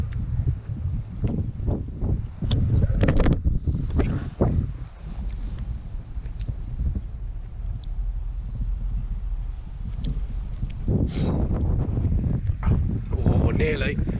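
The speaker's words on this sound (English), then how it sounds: "It's so windy, it's blowing the food off of the bread" Gusty coastal wind roars and buffets the microphone, with people talking over the blustery rumble.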